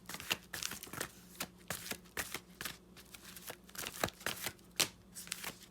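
A tarot card deck being shuffled, a close run of brisk card-riffling bursts and soft slaps at an uneven rhythm, quiet and with no voices.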